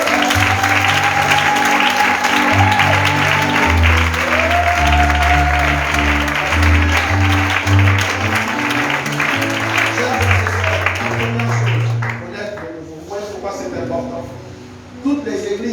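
Church congregation applauding to acclaim the Lord during a French-language teaching worship service, loud sustained clapping and crowd noise with a voice and musical tones running through it, fading out near the end.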